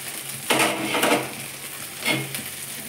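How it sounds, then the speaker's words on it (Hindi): Potatoes fry in a pan with a steady sizzle, broken by a few louder scrapes and stirs; no one speaks. "जब तक आलू भून रहा है"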